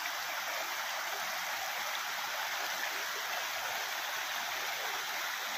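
Water rushes at the Anandwadi waterfall near Neral, a steady broadband roar, even and continuous with no voices.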